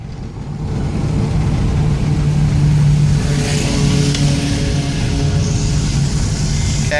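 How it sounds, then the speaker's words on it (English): A 1987 Volkswagen Jetta accelerates, its engine droning steadily and loudly from inside the cabin with a rising tone and road noise throughout, and no talking. "I'm going to get the car up to 55 and then turn back into my neighborhood"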